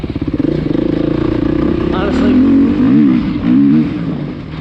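Engine of a 2020 Beta off-road motorcycle revving during a trail ride, a close throaty burble rising and falling through throttle blips, with someone talking over it.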